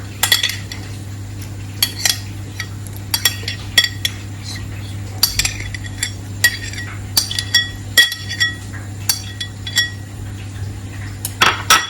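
A utensil clinks and scrapes against a dish while chopped pickles are mixed into tartar sauce, with irregular metallic taps spread across the clip, close and clear with no talking.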